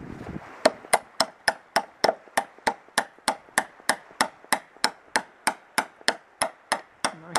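Steady hammer strikes driving a bolt into a cedar dock on a lake, about twenty sharp ringing blows at an even quick pace, close and loud.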